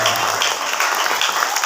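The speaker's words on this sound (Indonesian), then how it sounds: "Tepuk tangan buat kita semua." Children at a storytelling session clap together in a brief, loud burst of applause that is dense and steady, with no speech heard over it.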